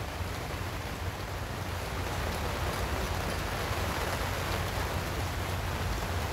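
Steady rain pours down in Beşiktaş, Istanbul, a dense even hiss of drops on surfaces with no voices, constant from start to finish.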